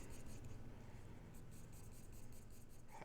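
Pen drawing hatch lines on paper, a quiet, continuous scratchy scribble of rapid repeated strokes, close up, with no talking.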